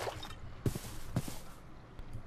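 Drinking water from a bottle in Minecraft: soft wet gulping squishes repeat at a slow, even pace, close and quiet against faint background sound.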